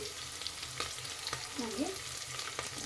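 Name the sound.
frying green chillies for ghee rice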